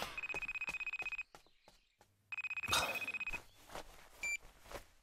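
A telephone rings in two rapid trilling bursts separated by a short pause, then a brief beep and some handling noise follow, fairly close and clear.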